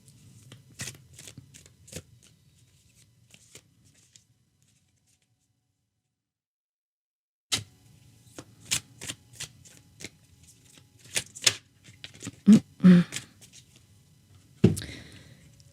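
Lumières d'Inanna oracle cards are shuffled in soft, papery riffles, then after a silent pause three cards are drawn with crisp snaps and taps that grow louder toward the end, with no talking.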